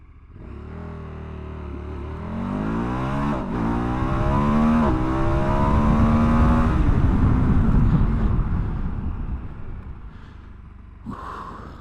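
A KTM 1290 Super Adventure S motorcycle's big engine revs up hard through rising harmonics, loud and close, holding a strong roar mid-run before easing off toward the end.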